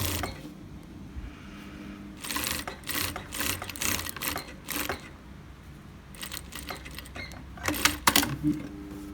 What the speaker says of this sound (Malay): Okay, lepas tu saya akan jahit ni setengah inci atas dia.